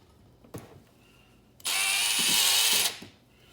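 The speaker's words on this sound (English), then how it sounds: "I'm gonna take a drill and two just small screws." A power drill driving small screws whirs at high speed for just over a second, preceded by a few faint clicks and knocks.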